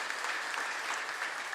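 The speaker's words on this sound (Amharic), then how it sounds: "አጨብጭቡ እስቲ ለጌታ ክብር።" A church congregation clapping in worship of the Lord, a dense, even patter of many hands at moderate distance, continuous and fairly soft throughout with no voices on top.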